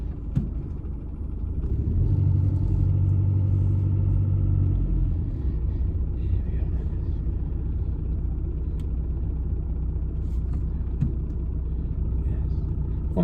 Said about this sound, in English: One thing you always get a lot of is traffic here